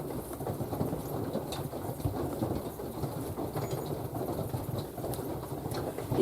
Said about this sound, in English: You can probably hear it raining here in North Texas.